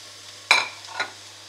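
Onion, garlic, chopped green pepper, carrot and green beans sautéing in a pan over medium-high heat, two quick stirring scrapes with a soft sizzle, otherwise quiet.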